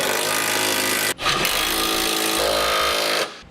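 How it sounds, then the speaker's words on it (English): Power tool tightening the bolts of a trailer hitch receiver on a 2014 Chevrolet, a loud, harsh, close whirring rattle that runs steadily, breaks off briefly, then resumes before stopping, with no talk. "Now we can start the process of tightening all of our hardware down."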